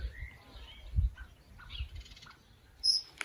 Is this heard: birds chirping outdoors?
yes